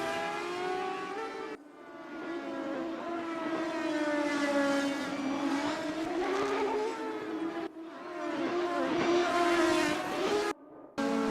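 A race car in a racing video game at Suzuka screams past with a high, whining engine note that rises and falls through gear changes, loud and sustained, with brief cuts of near silence.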